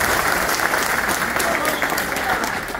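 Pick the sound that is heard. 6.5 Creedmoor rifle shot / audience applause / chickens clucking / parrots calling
audience applause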